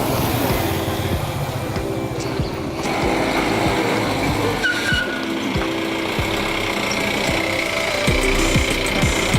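A jeep rattles and jolts along a bumpy mountain road between Kathmandu and Chame in Nepal, with a steady engine rumble, repeated thumps and clanks from the suspension and loose parts, and no talking.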